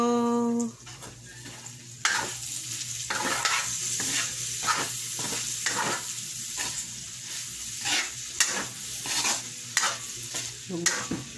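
Spaghetti sauce with two ketchups is stirred in a frying pan. The mixing makes a steady rhythmic scraping under a constant sizzle, and the spoon clinks against the pan, with no talking.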